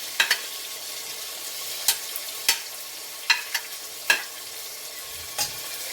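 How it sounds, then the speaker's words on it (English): Onions frying in a very hot pan give a steady bright sizzle throughout. Scattered sharp clacks and scrapes from stirring come through about half a dozen times. "we're going to pop the onions in. And obviously because the pan's really hot, it's going to make a lot of noise"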